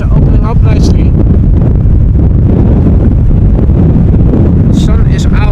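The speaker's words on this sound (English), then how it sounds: "The wind is blowing from the west. It's a bit breezy." Strong westerly wind buffets the microphone at a Schiphol airport runway in Amsterdam during a storm, a loud continuous roaring rumble throughout.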